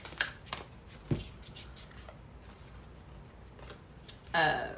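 Tarot cards being shuffled by hand in short riffling bursts, close and crisp, with a longer shuffle at the end and quiet room tone between.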